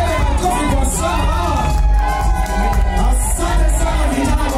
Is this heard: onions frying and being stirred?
no